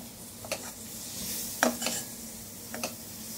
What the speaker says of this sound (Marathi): त्यानंतर मी हे टोमॅटो घालतेय ह्याच्यामध्ये। तर हे टोमॅटो घातल्यानंतर ना हे मिश्रण चांगलं हलवा।